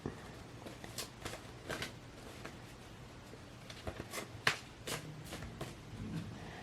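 Quick papery riffles and soft flicks of cards being shuffled nearby, in short irregular bursts with a few sharper snaps.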